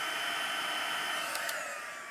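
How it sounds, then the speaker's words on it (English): An embossing heat gun blows continuously, a steady close whooshing hum held in one spot without pause, with a couple of faint clicks near the end. "I'm not moving my embossing gun around."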